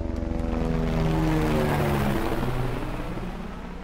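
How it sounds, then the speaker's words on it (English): Helicopter flying in the video game Far Cry 6, a loud, close whirring engine and rotor drone with a pitch that rises and then falls, heard alone without talk. "It's a much more competent helicopter than they've ever been in the games."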